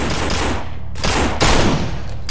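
Rapid bursts of gunfire in a zombie video game, loud and continuous with a short gap before another volley.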